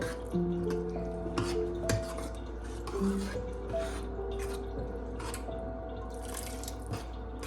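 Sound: water being poured into a potato curry

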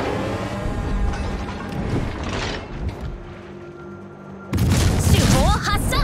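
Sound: warship main guns firing in World of Warships video game

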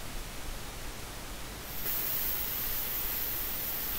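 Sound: plasma cutter cutting metal for a stove door catch

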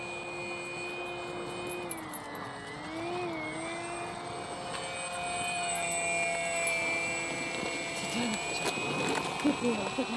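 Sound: Modster Easy Trainer 1280 RC model airplane flying at low power

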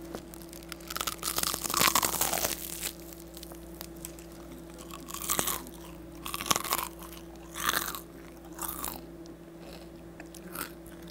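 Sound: chewing crispy duck wings

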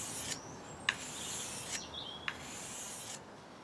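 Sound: sharpening a carving knife blade on a 1000 grit stone

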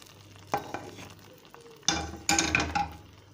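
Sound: tadka (bagar) with oil added to chicken harissa, sizzling

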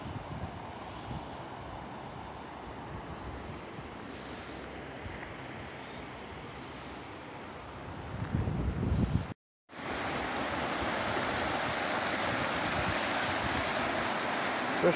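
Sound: waterfall

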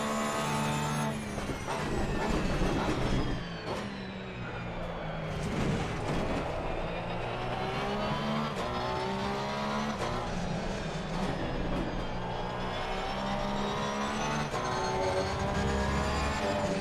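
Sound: race car engine in a video game

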